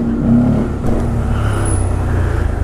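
A motorbike engine revs hard and steadily while the rider pulls a wheelie up a hill, a loud, close, continuous drone with wind rush and no talking.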